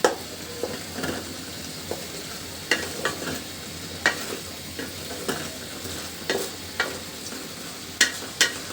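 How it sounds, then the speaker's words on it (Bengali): A spoon stirs bottle gourd simmering in a pot for a fish curry, giving soft scraping knocks at irregular intervals over a steady low bubbling, with no talking. "একটু নাড়া দিয়ে দিলাম, সিদ্ধ হয় নাই, আর একটু হবে।"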